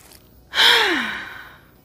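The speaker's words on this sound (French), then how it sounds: "vous inspirez, vous expirez plusieurs fois" One breath is drawn, then let out in a long audible sigh that fades away, close to the microphone and without any talking, as part of an anti-stress breathing exercise.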